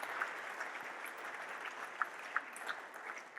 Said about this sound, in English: Let's give these supporters a round of applause.